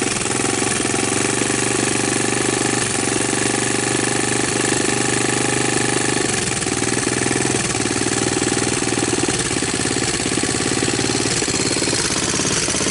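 A Honda TRX200SX ATV, bought cheap for parts, idles roughly up close, a loud, steady mechanical chatter with a rapid knocking pulse and no one talking.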